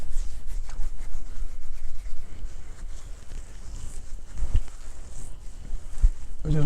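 Hands rubbing beard product into a beard, a continuous close, soft brushing and scratching texture with a few low thumps.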